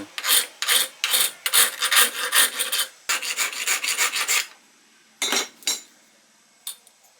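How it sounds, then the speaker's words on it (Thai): A metal file rasps across the cut edges of a homemade 2-inch valve handle to smooth burrs, in loud rhythmic strokes: a quick run of about a dozen, then a pause and a few more scrapes, with no talk. "ใช้ตะไบแต่งครีบเพื่อลบมุมลบคมนะครับ ป้องกันการบาดมือ"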